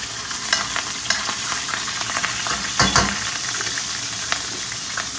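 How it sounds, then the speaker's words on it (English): Grits fry in a pan, making a close, continuous sizzle with crackles and occasional louder bursts as they are stirred, no talking. "the chef is going to fry up the grits"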